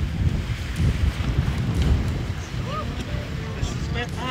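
Strong wind buffets a sailing boat racing at about 16 knots apparent wind, a steady loud roar with microphone gusts, water rushing beneath, and faint whistling creaks near the end.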